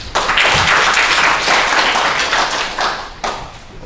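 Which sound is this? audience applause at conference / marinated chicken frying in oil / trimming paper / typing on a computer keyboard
audience applause at conference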